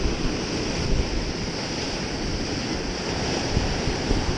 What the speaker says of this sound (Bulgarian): морето е зверски бурно